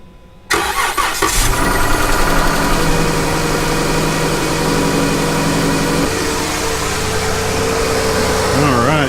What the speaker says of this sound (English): I'm going to go ahead and fire up the car